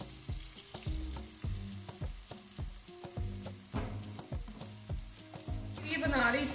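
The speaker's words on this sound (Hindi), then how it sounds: "लो फ्लेम पर हम इसको स्लो स्लो आंच पर इसको फ्राई कर लेंगे अच्छी तरह से" Chicken reshmi kebabs fry on a low flame, a steady soft sizzle with irregular crackles and occasional clinks, growing louder and busier toward the end.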